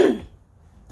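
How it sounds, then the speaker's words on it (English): A single short throat clear from a person getting ready in the morning, close and brief, followed by near silence. "I'm clearing my throat."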